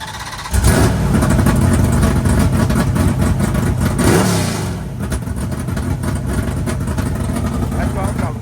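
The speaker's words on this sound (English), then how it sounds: "I like to have people crank their car, and let's listen to this bad boy." Hemi Dart race car in the pits at a drag racing national event, its engine cranking over and then barking into hard revs that fall back to a rough, lumpy idle; people talk under the engine noise.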